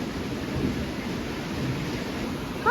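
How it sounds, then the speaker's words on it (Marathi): Heavy rain pours steadily outdoors, a dense, unbroken hiss with a low rumble of thunder blended into the downpour. "वीज पण कडडतायत खूप कडडतायत जोरात"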